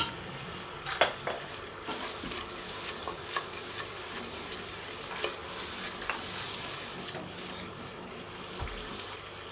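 Spices, among them ground coriander, ginger powder and turmeric, fry and get stirred in a pan for a mutton paya (goat trotter) curry. A soft continuous sizzle runs under occasional clinks and scrapes of a spoon.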